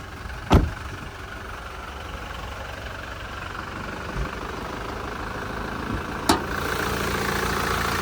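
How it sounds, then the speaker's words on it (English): A 2021 Toyota Prado GXL diesel engine idles under the bonnet, a steady, even rumble with a light tick, with a couple of sharp knocks or clicks nearby. "It's that diesel motor ticking over nicely."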